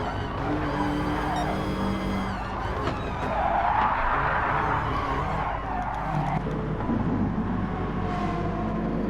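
Race cars at Brands Hatch running side by side into the first corner, a dense continuous roar of engines with tyre squeal and a rising, sweeping pass midway.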